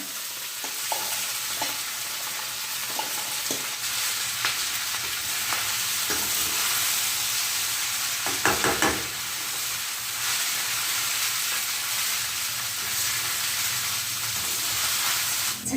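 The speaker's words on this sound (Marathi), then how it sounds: "चला आता घेते खिचडी परतून" Soaked khichdi being stir-fried in a hot pan at home, a continuous loud sizzle and hiss with occasional scraping strokes of the spatula and a louder clatter midway, no voices.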